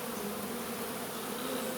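A swarm of honey bees issuing makes a thick, constant hum, close and loud, with many wings blending into one unbroken drone.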